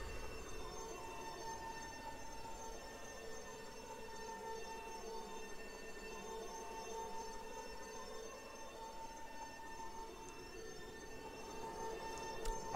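A CRH380A high-speed train rushes past on a line in south-west China, giving a steady, loud roar with sustained whining tones that swell and shift as it goes by, lasting throughout.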